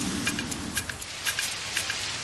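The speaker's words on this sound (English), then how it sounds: "It's raining, it's pouring" Steady rain falls in a dense, even hiss, with brief brighter patters of drops striking a surface at scattered moments; no voices are heard.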